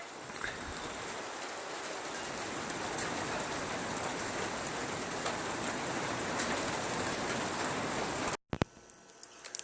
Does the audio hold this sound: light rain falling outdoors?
yes